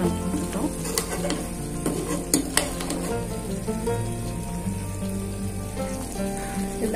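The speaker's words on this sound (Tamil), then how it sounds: "குழம்பு நல்லா கொதிக்குது." Chettinad fish gravy, a meen kuzhambu with fish pieces added, bubbles at a steady boil in a pot, a dense continuous simmering hiss with faint pops close by and no talking.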